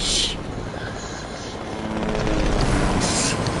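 A helicopter's rotor thumps and engine drone fill the clip, steady and fairly close, growing a little louder near the end.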